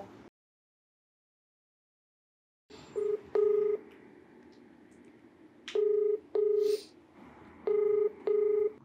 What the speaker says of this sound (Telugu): అమ్మ నెంబర్ పంపించు, నేను కాల్ చేస్తాను ఒకసారి ఆయనకి